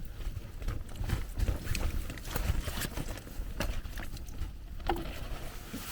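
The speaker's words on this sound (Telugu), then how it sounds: "అంత వర్షం అయితే ఫస్ట్లో బాగా పడింది ఇప్పుడు కొంచెం తగ్గిపోయింది" Light rain patters steadily with soft, scattered taps over a low background rumble at a hillside campsite, easing after a heavier downpour; no voices.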